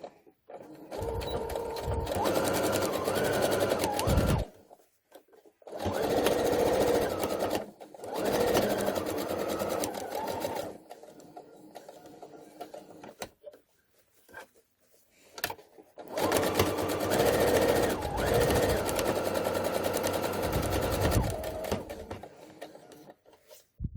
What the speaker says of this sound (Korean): 창구멍을 기준으로 해서 전체 둘레를 바느질 해줄게요.